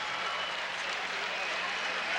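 A crowd at a 2000 girls' Class C basketball final roars for a St. Ignace player as she checks out of the game, a loud, sustained cheer that fills the gym and builds slightly at the end.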